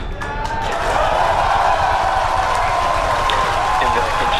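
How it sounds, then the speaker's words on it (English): A crowd cheers and claps at the USSF-44 rocket launch during booster separation, a loud sustained roar of voices and applause from many people, rising quickly and holding steady. "there you can see and heard it by the incredible excitement within the crowd behind me"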